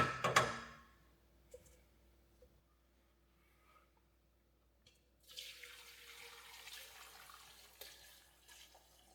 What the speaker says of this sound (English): And so we're going to pour this in our pan here, and that's going to be the base of our salmon chowder.